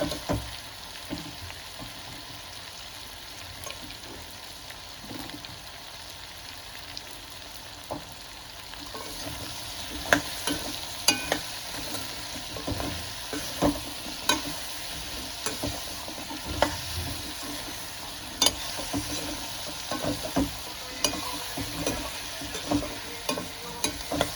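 Spices and salt frying in a pan while being stirred for a traditional festival thali. Frequent close scraping and tapping strokes run over a constant gentle sizzle, and they grow busier partway through.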